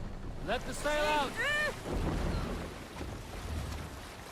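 A sailing ship crosses ocean waves in the video game Assassin's Creed Valhalla, with a steady wash of wind and surf. A voice shouts early on, then the waves continue on their own.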